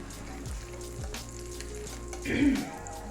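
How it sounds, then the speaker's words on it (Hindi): A layered lachha paratha with chilli and garlic fries in a pan over a low flame until crisp, giving a steady close sizzle throughout with a brief louder flare near the end. "और अब यहाँ पे मैं इसकी साइड चेंज करती हूँ और अच्छी तरह इसको क्रिस्पी होने तक मैं ऐसी हल्की आग पे इसको फ्राई कर लूँगी"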